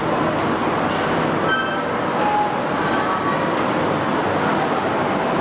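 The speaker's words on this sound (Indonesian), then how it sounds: "kereta api Banyu Biru datang dari arah timur, tepatnya dari arah stasiun Semarang Tawang" The Banyu Biru passenger train pulls into a station in Solo, Indonesia, a steady rolling rumble of wheels on rails with brief metallic squeals, loud and close throughout.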